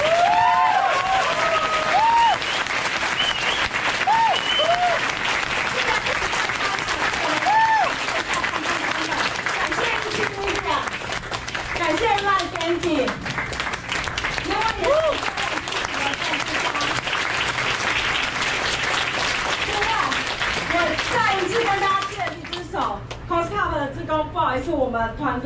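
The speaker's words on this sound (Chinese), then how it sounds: "我希望大家的掌声非常的大，让外面的工作人员都知道他们今天真的很辛苦。" A large audience at the closing session of the COSCUP 2019 open-source conference claps loudly and steadily for about twenty-five seconds, with scattered cheers and voices rising through the dense applause.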